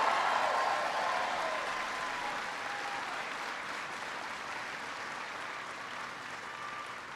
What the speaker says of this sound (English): Give Claire a big round of applause.